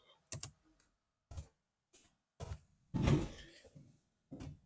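Keys on a computer keyboard tapped in short separate bursts of clicks with pauses between them, including one longer run of typing, close and fairly quiet, with no talk.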